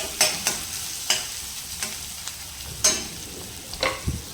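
Onions frying in a pan for Gujarati sev dungri curry, a soft steady sizzle broken by several sharp scraping stirs of a spoon at irregular intervals, close and alone without talk.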